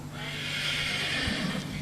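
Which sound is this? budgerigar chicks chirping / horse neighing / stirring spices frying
horse neighing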